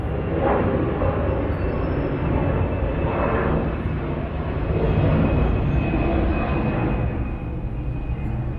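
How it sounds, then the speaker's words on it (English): An airplane passes overhead with a steady, broad, rumbling roar that fills the whole stretch at a fairly even loudness and has no talk over it. "Let's wait for that airplane."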